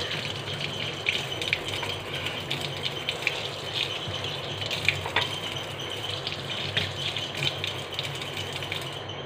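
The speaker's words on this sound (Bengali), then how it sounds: "তো ফার্স্ট আমি আলুগুলোকে ভালো করে ধুয়ে নেব।" Potatoes washed by hand under running water before being made into chips; a steady gush of water with light rattling and rubbing of the potatoes, close and moderately quiet throughout.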